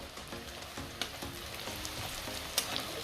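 Chopped onion with salt fries in a pan, a steady close crackling sizzle with small pops and faint stirring clicks throughout.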